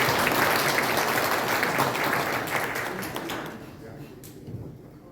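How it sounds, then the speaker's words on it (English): Dense audience applause at a Kohima remembrance commemoration, loud at first and gradually thinning and fading out over several seconds, with talk faintly mixed in. "Round of applause for them, please"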